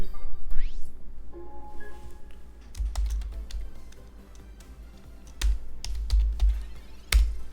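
Keys clatter on a computer keyboard in short bursts of typing, with a few louder isolated keystrokes near the end, close by over a faint background hum.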